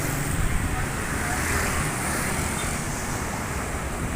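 Dense, steady roar of heavy traffic on a busy main road through an industrial area of Tangerang, a continuous wash of engine and tyre noise with wind, while a voice talks over it.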